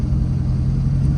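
A rebuilt Corvette's engine runs steadily on a test drive, a loud, continuous low rumble from inside the car with no talk.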